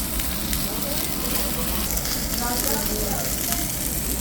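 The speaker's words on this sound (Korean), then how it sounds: "자 지금 장어가 지글지글 잘 익어가고 있습니다" Steady crackling sizzle of eel cooking on a grill, broadband and continuous throughout, fairly close, with a faint voice murmuring underneath.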